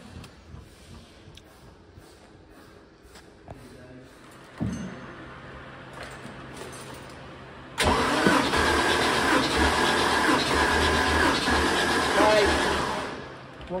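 Powerboat engine cranking over during a compression test: a faint start, a brief jolt, then a loud steady mechanical churn that runs several seconds before tapering off.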